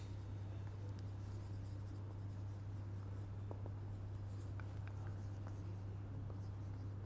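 Pen or pencil writing notes on paper, a steady close scratching with a few small taps, heard alone and without talk.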